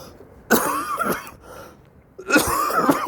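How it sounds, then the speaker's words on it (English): Two bursts of harsh coughing from a man with a throat infection, close and fairly loud, separated by a short quieter pause. "Excuse my cough"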